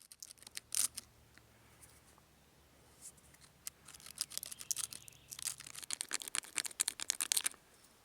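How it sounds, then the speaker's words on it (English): Sharp flint scraping and scoring a small hollow raccoon baculum bone, a series of quiet, close, dry clicks and scratchy rasps in irregular bursts, growing busier toward the end. "you're going to have to cut the raccoon baculum in half using a sharp piece of flint"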